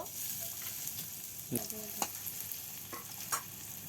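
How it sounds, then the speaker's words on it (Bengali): Chopped onion, garlic and green chili frying in oil for a taro-stolon dish, a soft steady sizzle with a few louder stirring scrapes and clinks, close and fairly quiet, no talk. "লতি রান্না করার জন্য তেল দিয়ে দিচ্ছি। পেঁয়াজ রসুন আর কাঁচা মরিচ কুচি দিয়ে দিল।"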